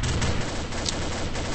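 A TAR-21 Camo rifle fires in Combat Arms, a short dense burst of rapid shots with heavy low-end thump that stays loud through the whole moment.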